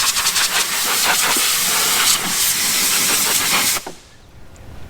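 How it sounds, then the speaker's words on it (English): Compressed air blasts steadily in a loud, continuous hiss, blowing water off a car engine bay after washing, then cuts off abruptly near the end. "I use compressed air"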